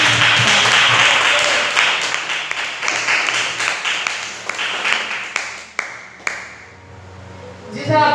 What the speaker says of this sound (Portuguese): Aplauda ao Senhor na sua presença.